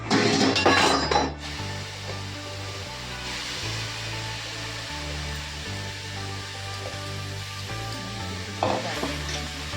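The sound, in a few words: apples cooking in a pan for apple jam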